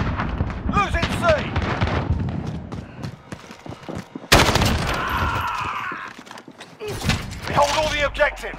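Gunfire in Call of Duty Modern Warfare, Domination match on Suldal Harbor: bursts of rifle shots and impacts recur across the clip, mixed with game voice callouts, with a louder sustained barrage in the middle.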